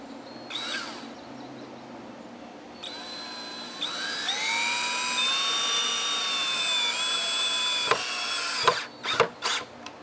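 A power drill drives screws into the 45-degree cut legs of a wooden sawhorse, a loud rising whine that ramps up and holds for several seconds, then stops with a few short bursts at the end.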